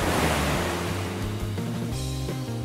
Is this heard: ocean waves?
yes